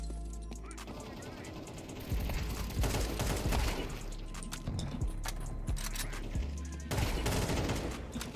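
Rapid video-game shooter gunfire, bursts of automatic fire and single shots crackling close and loud over several seconds, with a player's voice in the mix.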